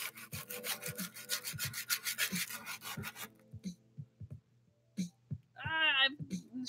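Hand sanding of wood gives a rhythmic series of rubbing, rasping strokes, close and fairly quiet, that stops partway through while a person keeps talking.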